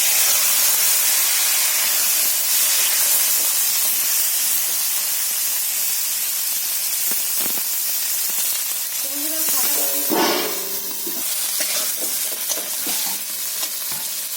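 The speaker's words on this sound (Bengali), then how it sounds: "বন্ধুরা বেগুনটা আমি ভেজে নিচ্ছি।" Brinjal frying in oil in a kadai gives a loud, steady hiss of sizzling that runs throughout. A few clatters of stirring rise out of it near the middle.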